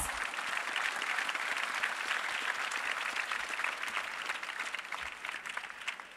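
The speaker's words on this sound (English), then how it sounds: "Let's have a big round of applause." A large audience at the 17th APICTA Awards ceremony in Dhaka gives a long, sustained round of applause, thick and continuous, easing slightly toward the end.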